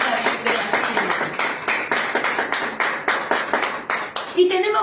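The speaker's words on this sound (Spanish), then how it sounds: "Dale un fuerte aplauso al Señor." A church congregation claps together in a steady, rhythmic beat, close and loud, for several seconds before the clapping breaks off near the end.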